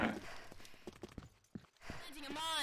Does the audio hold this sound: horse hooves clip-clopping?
yes